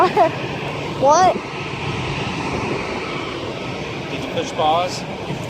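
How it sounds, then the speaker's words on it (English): Loud fixed-wing airplane at Springfield Branson National Airport, a steady, close broadband engine roar that fills the whole stretch while people exchange a few brief words over it. "This plane's really, really loud."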